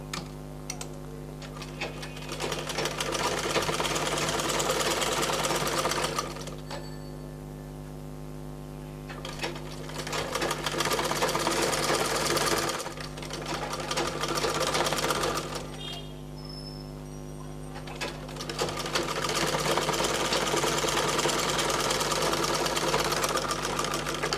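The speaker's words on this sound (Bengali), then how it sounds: "গলার পট্টিটা তার উপর আমি সেলাইটা করবো" A sewing machine stitches the neckline strip of a nighty, running in three long bursts of steady rapid mechanical chatter with short pauses between them, close and fairly loud.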